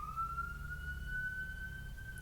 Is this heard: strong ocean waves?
no